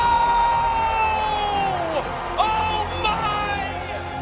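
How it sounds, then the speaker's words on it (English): A stadium crowd cheers loudly after a goal in a soccer match between Orange County SC and El Paso Locomotive FC, a sustained roar with whoops and shouts while a commentator's excited voice carries over it. "And the crowd is losing it here."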